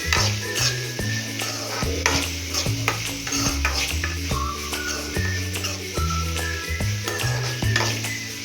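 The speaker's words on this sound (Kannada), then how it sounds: "ಮೂರು ಸ್ಪೂನ್ ಎಣ್ಣೆ, ಈ ಕಟ್ ಮಾಡ್ಕೊಂಡಿರೋ ಈರುಳ್ಳಿ, ಒಂದು ಈರುಳ್ಳಿ ಸಾಕು. ಫ್ರೈ ಮಾಡ್ಕೊಳ್ಳೋಣ ಇದನ್ನು" Chopped onion fries in about three spoons of oil in a pan while a spoon stirs it in a steady rhythm of scraping strokes over continuous sizzling. Nobody speaks.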